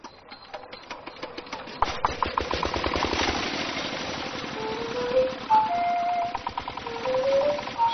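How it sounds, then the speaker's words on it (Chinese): A tractor engine run to summon wild boars chugs with a steady rapid pulsing, joined by high tonal squeals and whines near the end, loud and close with no talk. "这个拖拉机的声音就好像下课铃一样，"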